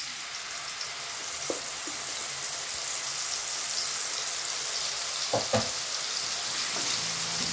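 Alexandrian-style liver mixture fries in about half a cup of hot oil, giving a steady, hissing sizzle with a few faint clinks.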